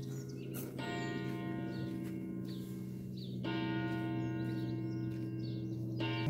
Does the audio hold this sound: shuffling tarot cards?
no